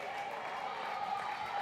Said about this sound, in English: And you can hear the applause for Aiden Butler.